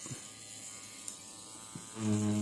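A tattoo machine from a new tattoo kit starts up near the end with a close, steady electric buzz, after quieter mechanical clicks and handling noises.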